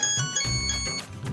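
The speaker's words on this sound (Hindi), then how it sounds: "फोन बजा दे मुझे।" A phone ringtone plays a repeating electronic tone pattern for a moment, fairly loud and close, with faint room noise around it.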